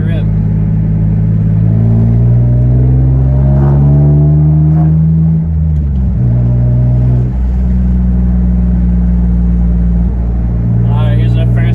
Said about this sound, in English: All right, here's our first aggressive stop.